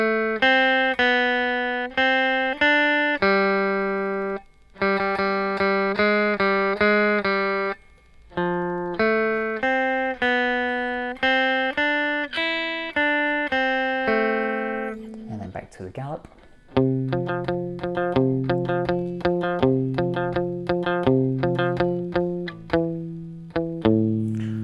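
Electric guitar playing a melody, with picked single notes on open and fretted strings, echoing and bright, a steady run of clear phrases, then a quick string scrape before faster picked notes.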